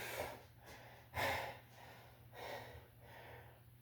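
Someone breathes heavily after a hinge-focused leg workout, with several separate hard exhales and gasps in an uneven rhythm, close but fairly quiet.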